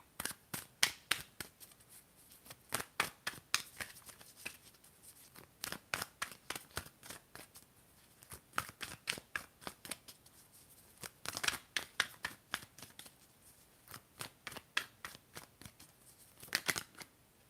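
Tarot cards shuffled by hand in a quiet setting, a rapid run of crisp riffling snaps and flutters in repeated bursts with brief pauses between, close and clear with no voice.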